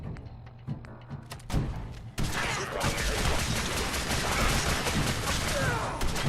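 Gunfire in Fallout 4: a few sharp shots early, then a dense sustained barrage of loud, rapid bursts that fills the rest of the scene.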